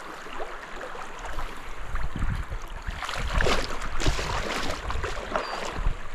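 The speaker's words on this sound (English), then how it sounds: "Pulling boats upriver." Water sloshes and splashes continuously as kayaks are dragged upriver through a shallow current of the Llano River in Texas, with wind gusts and scraping nearby.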